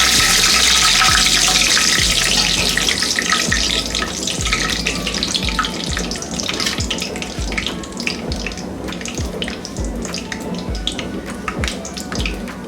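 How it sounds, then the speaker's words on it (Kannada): Peanuts fry in oil in a pan on a stove, giving a loud, steady, dense sizzle with scattered crackles and pops throughout, gradually easing slightly in intensity. "ಮೊದಲು ಕಡಲೆ ಬೀಜನ ಫ್ರೈ ಮಾಡ್ಕೊಂಬಿಡೋಣ."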